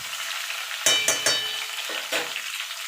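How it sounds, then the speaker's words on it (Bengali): Pointed gourd, ridge gourd and eggplant pieces frying together in a pan for pui shak chorchori, a steady sizzle broken by a few sharp spatula clatters and stirring scrapes. "এই সবজিগুলো আরও আমি মিনিট খানিক ধরে একটু ভাজা ভাজা করে নেব"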